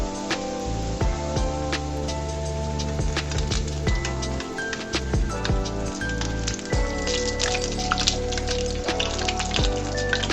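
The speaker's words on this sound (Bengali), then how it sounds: "পাল্টিয়ে ভেজে নিচ্ছি" Eggplant fritters (beguni) frying in hot oil, a steady dense crackle and sizzle with scattered sharp pops and occasional clinks of a utensil, close and continuous with no talking.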